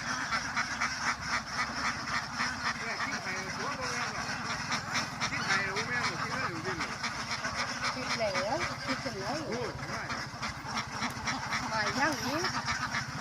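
A flock of about 600 laying ducks on a farm in Ban Na Wiang quacks continuously in a dense, loud chorus close by, with people talking over the noise.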